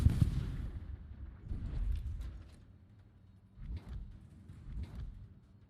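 Destroyer guns of the Tier 9 Japanese Kitakaze firing in World of Warships, a series of deep booming shots that come in uneven bursts, muffled and moderately distant, with no speech.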